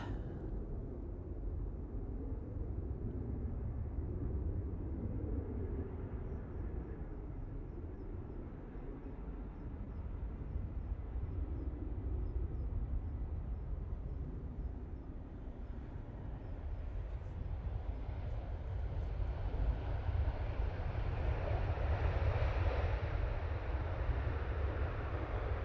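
A British Airways passenger plane arriving from London at Manchester Airport, heard as a steady, broad jet rumble from a distance that grows slightly louder toward the end, with no voices.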